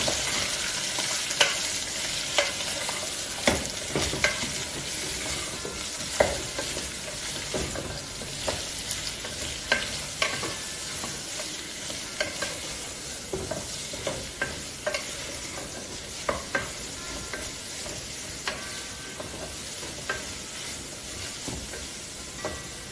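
Chicken with about five split green chilies frying in a pan for half a kilo of chicken, stirred steadily with repeated sharp clicks of a spoon against the pan over a continuous sizzle, with no talk.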